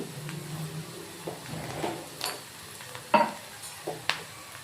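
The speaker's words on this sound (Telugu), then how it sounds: "ఆనియన్ అయితే ఫ్రై అయిపోయింది దీంట్లో కొంచెం పసుపు వేస్తాము" Onion frying with turmeric in a pan, with a soft sizzle under stirring and scraping and a few sharper utensil clinks against the pan, close and moderately quiet.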